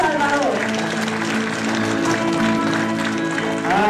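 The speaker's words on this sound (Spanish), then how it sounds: "vamos a darle un fuerte aplauso a Dios" Congregation at a church Christmas service clapping together, a steady dense wash of applause with voices and cheers mixed in throughout.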